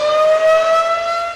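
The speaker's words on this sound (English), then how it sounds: "Outdoor warning sirens are there for public safety" An outdoor tornado warning siren wails with a loud, sustained tone that holds steady for over a second and then begins to fade.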